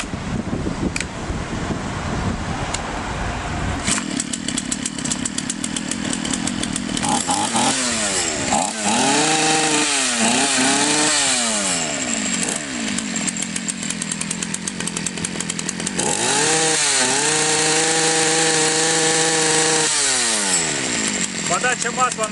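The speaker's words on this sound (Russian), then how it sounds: "А теперь пробуем заводить и посмотрим, идет ли масло и работает ли пила." A 3816 chainsaw engine sputters, catches and runs after a fuel hose replacement, revving up and down in loud whining bursts, with someone speaking over the noise.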